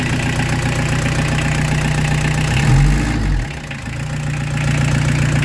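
A Peugeot 205 TD diesel engine with an ailing alternator idles loudly and steadily, then gives a brief rev that swells and drops back before settling into its even idle, close by with no voices.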